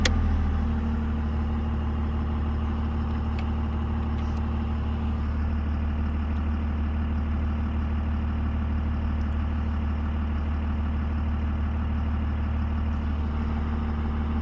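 Diesel engine with a VP44 injection pump idling steadily with a torque management switch engaged, a loud, even low rumble that holds throughout with no voices.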